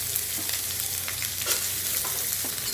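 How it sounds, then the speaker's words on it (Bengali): Chopped onions hiss and sizzle steadily in hot oil while being fried for a ridge gourd, potato and egg curry, with soft scattered crackles over a constant close frying wash and no talk. "আর এখন আমি দিয়ে দিচ্ছি পেঁয়াজ কুচিগুলো।"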